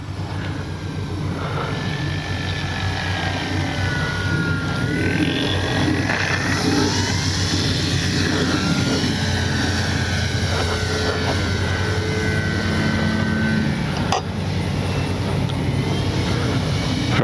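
Durafly Slowpoke RC low-wing model airplane in flight, its electric motor giving a steady continuous drone with gliding pitch sweeps as it passes, moderately loud throughout with no pause.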